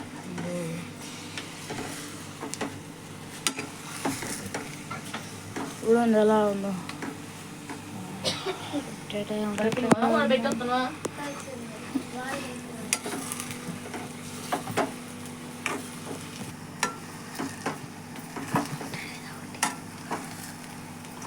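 A thickening vermicelli dish being stirred in a pot for Telugu-style semiya, repeated spoon scrapes and faint sizzle under intermittent speech.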